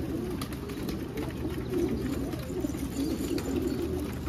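Pigeons coo steadily in a large racing pigeon loft, soft overlapping low cooing that continues throughout under a faint background hum.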